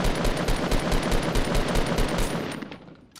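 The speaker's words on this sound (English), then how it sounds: "oh shit, he's shooting from the right" Rapid automatic gunfire in a Fortnite Battle Royale match on Xbox One, a loud, dense stream of shots lasting about two and a half seconds before trailing off.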